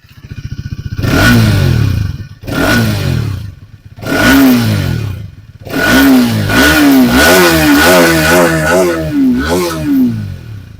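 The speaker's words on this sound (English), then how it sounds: "And now let's twist the throttle a little." Hero Xtreme 250R motorcycle engine revved hard from close range, four sharp throttle blips rising and falling with pauses between, then a longer run of rapid wavering revs.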